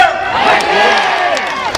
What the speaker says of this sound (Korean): 여러분들 화이팅 한번 해보겠습니다